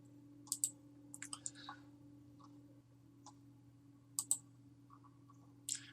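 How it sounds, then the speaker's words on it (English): A computer mouse clicks in small clusters of two or three sharp, close taps, spaced out by pauses over a steady low electrical hum, with no speech. "I'm just clicking on the little arrow that's over on the right hand side"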